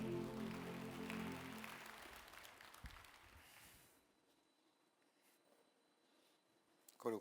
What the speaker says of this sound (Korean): 하나님께 영광의 박수 올리겠습니다.